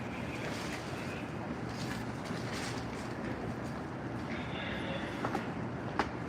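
An MBTA Red Line Ashmont subway train runs with a steady low rumble and rolling wheel noise, with faint squeals and a few sharp clanks near the end.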